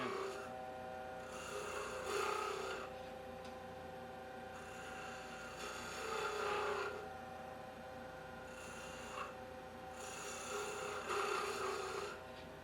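Gouge shearing a thin wooden spindle on a lathe for beads and coves: a steady rasping cut that swells and fades in three long passes over a constant low hum, close and alone with no talking.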